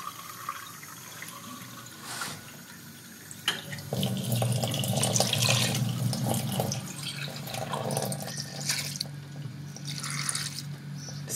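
Tap water runs steadily into a pot holding twelve elderflower heads for homemade elderflower cordial, a continuous splashing fill heard up close with no talking.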